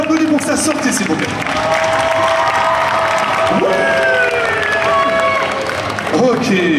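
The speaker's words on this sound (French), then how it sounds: "On l'applaudit pour sa sortie, s'il vous plaît." Cosplay contest crowd applauds and cheers in a full, loud, sustained wash of clapping, with scattered shouts and a voice or two rising over it.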